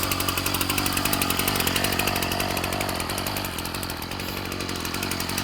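A Ryobi 740r gas string trimmer engine idles steadily after winter storage, a close, buzzy two-stroke putter with a rapid even pulse and no speech.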